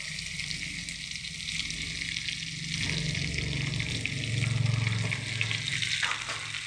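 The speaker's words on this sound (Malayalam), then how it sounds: "ഇനി നമ്മൾ ഈ മാങ്ങയും കൂടെ ഇതിലേക്ക് ഇടുക." Raw mango pieces for a Kerala instant mango pickle drop into a hot pan and sizzle, a steady loud frying hiss that swells as the pieces settle, with no talking.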